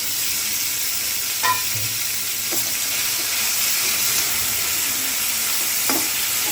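Chhana, a fresh cottage cheese, frying in a pan with ghee and oil, giving a steady close sizzle with a few scraping stirs and light clinks, and no voices.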